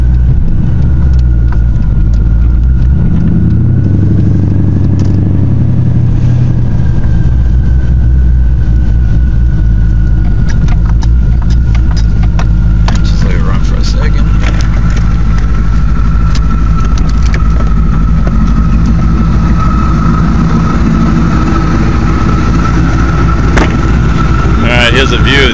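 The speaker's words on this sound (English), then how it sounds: "we'll take a listen to the outside so you can hear the exhaust on it." Exhaust of an 800 HP 2008 Dodge Challenger with twin turbos, a loud, deep engine drone heard from outside the car, rising and settling steadily throughout.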